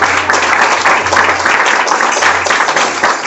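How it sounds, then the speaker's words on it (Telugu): Church congregation clapping loudly in praise, a steady dense wash of many hands sustained without pause, with a low hum beneath. "గట్టిగా చప్పట్లు కొట్టి దేవుని నామాన్ని మహిమ పడుతుంది."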